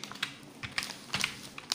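Computer keyboard typing: a handful of quick, light key taps in scattered bursts, close and fairly quiet, with no voices.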